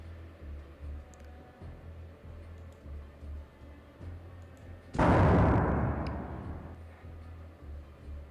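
An explosive grenade detonating in a video game: a single loud, sudden blast rings out partway through and its rumble fades over a couple of seconds, with quieter ticking and background game sounds before it.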